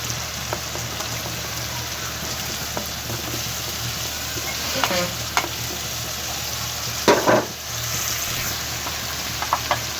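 Tomatoes go into a pan of frying spices, giving a continuous close crackling sizzle with occasional stirring clatters and one louder burst of spatter, no talk over it.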